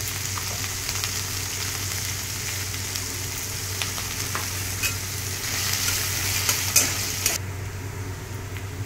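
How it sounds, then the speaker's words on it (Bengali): Chopped onions fry in a wok with a constant loud sizzle, broken by occasional light stirring clicks, until the sound drops away abruptly at the end; no one speaks. "আমার এই কড়াইতে পেঁয়াজগুলো বেশ লাল লাল করে ভাজা হয়ে গেছে"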